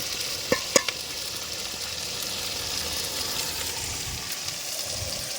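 Tamarind fries in oil in a clay pot while a wooden masher stirs it, giving a continuous hissing sizzle with a few sharp knocks near the start and faint scraping throughout.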